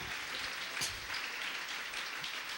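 A church congregation clapping together in worship, heard as faint, distant, steady applause without pauses.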